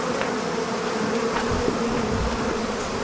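Dense, loud buzzing of a large swarm of bees, constant and close with no pauses.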